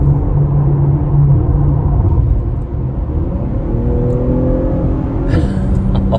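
A 2020 Porsche Panamera 4 accelerates on the road, its engine a steady loud rumble heard from inside the cabin, rising in pitch as it climbs through the gears.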